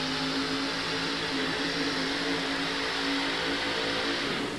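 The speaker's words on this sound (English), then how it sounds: "The truck absolutely thundered" A 1988 four-wheel-drive pulling truck with a Rodeck engine and Pontiac heads roaring flat out at a truck pull in Phoenix, Arizona, a loud, dense, unbroken engine blast that holds at full power throughout.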